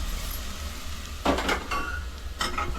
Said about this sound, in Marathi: आणि हे ढवळून घेते.